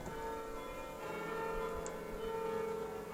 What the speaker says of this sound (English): I know some of you like to hear the bells